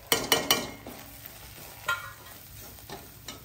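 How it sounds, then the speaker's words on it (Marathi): Onion and tomato fry with masala in a pan. A quick cluster of loud spatula scrapes and knocks comes first, then quieter stirs and a soft, steady sizzle continue close by. "ते बरे फ्राय झाला ना कांदा आणि टमाटा हे मसाला घालपाचे"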